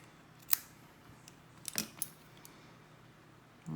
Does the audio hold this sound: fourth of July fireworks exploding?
no